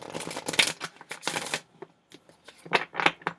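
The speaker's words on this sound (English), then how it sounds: "I was tired of shuffling, and here I am shuffling" Close, crisp tarot card shuffling in a few short bursts of riffling and snapping, pausing briefly before a final flurry.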